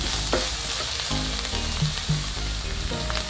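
Chili peppers fry in a hot pan for a Filipino coconut shrimp and squash dish, giving a steady close sizzle with a few clinks and stirring scrapes and no talking.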